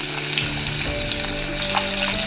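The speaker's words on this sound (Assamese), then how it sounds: "এয়া ৰাতিপুৱা মই ভাজি আছোঁ।" Kuhiya and bat fish frying in a pan make a loud, steady sizzle that crackles continuously throughout, with no voices.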